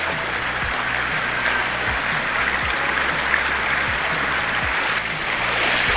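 Steady rushing of a flowing river, loud and close, a continuous broadband wash of water with no voices.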